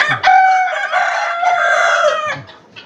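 A rooster from a collection of rare chicken breeds gives one loud, close, drawn-out crow, framed by short clucks from nearby hens.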